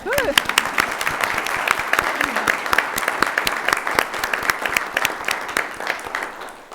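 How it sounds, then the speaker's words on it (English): A round of applause rises at a board of education meeting, steady dense clapping from the seated audience that fills the room for several seconds, with a voice briefly heard at the start. "You want to stand up and we'll give you a round of applause?"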